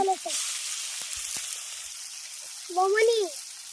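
Fish belly pieces fry in hot oil, turned over on both sides, giving a steady, loud bubbling sizzle throughout, with a voice speaking briefly over it at the start and near the end.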